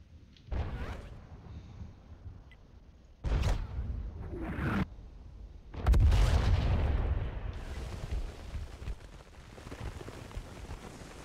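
Artillery shells fire and explode in a tank video game set in a city, with three loud booming blasts in sequence, each followed by a whooshing, rumbling tail, the last one heaviest and longest.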